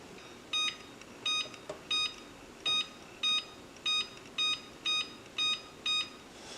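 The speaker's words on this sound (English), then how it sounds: "I'm going to set the timer for 20 minutes" An electronic oven timer emits about ten evenly spaced, bright beeps as the timer is set for a batch of homemade chocolate chip muffins, close and clear against a quiet kitchen.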